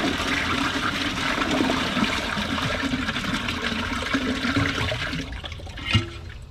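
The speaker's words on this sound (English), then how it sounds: "Looks like it needs a second flush." A toilet flushes thick tissue paper with a loud, sustained rush of water that churns steadily, then tapers into a softer trickle and refill near the end.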